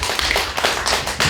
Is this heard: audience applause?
yes